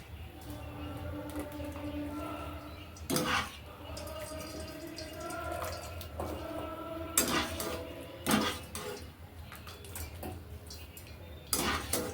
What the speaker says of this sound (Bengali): জলটা ছেঁকে ছেঁকে তুলে নেব।